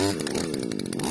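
Petrol string trimmer (brush cutter) engine firing up after choke and primer, its two-stroke motor running loud and close with a raspy, steady buzz and slight throttle flutter.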